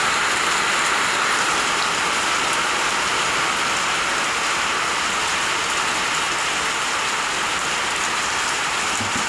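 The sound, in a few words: rain falling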